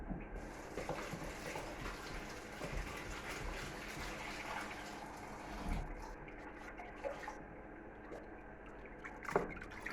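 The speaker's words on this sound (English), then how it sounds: "So rinse it in a bit of water." Old sprout sauerkraut being rinsed in a container of water, with steady close trickling, dripping and sloshing running throughout, plus a few brief louder splashes and clatters.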